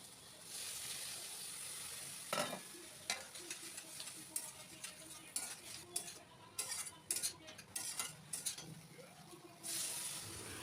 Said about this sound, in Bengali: তেল বেগুনের পরে এইবার আমি মাছের ঝোল রান্না করে নিচ্ছি